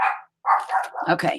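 Several dogs bark at home in a short, quick series of close yips and barks, with a person speaking briefly between them.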